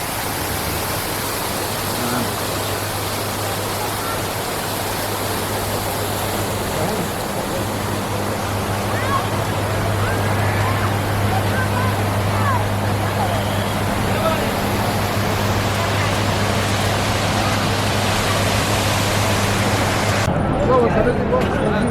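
Fountains in the main square of Erbil, Kurdistan splash in a continuous, loud wash of falling water, with a low hum running beneath and the rush cutting off abruptly near the end.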